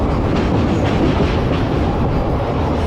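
Loud, steady rumble of a moving passenger train on the Bhimavaram–Renigunta route near Vijayawada, with a dense rattling clatter from the rails, heard from inside, constant throughout.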